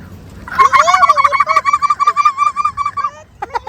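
A turkey at a wildlife park gobbles loudly and close, rattling rapidly for a few seconds, then a couple of shorter gobbles follow.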